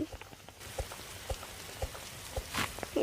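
Rain falls in the video game 99 Nights in the Forest as scattered, irregular drops patter nearby over a soft background hiss, with no voices.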